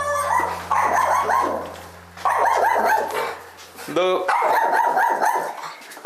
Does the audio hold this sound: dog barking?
yes